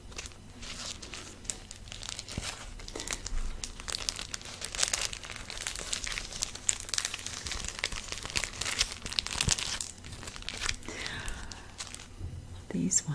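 Sticker packets are handled and crinkled up close, with continuous soft crackling and rustling under a quiet spoken voice in a souvenir shop setting.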